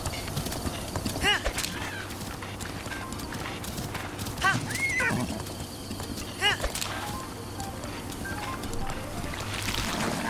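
Hoofbeats of a horse galloping in a video game, heard alongside several whinnies and splashy movement, with someone talking intermittently over the sounds.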